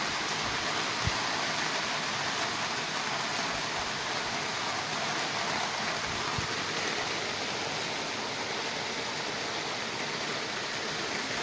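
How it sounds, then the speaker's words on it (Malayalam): Heavy rain pours down steadily and loudly, a dense continuous hiss with no talk over it. "നല്ല മഴ പെയ്യുന്നുണ്ട്"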